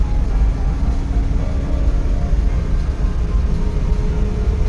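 The non-turbo engine of a Suzuki DA64V mini truck with two-wheel drive and an automatic transmission runs steadily while the truck is driven. It gives a smooth, continuous low rumble mixed with road noise and has no knocks or irregular sounds.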